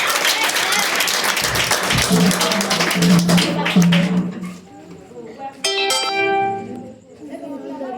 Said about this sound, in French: On va applaudir ces musiciens.